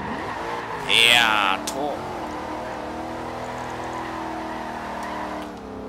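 A car in Forza Horizon 2 drifts and spins out, its engine revving with a brief loud tire squeal, then settling into a steady drone while someone talks over it.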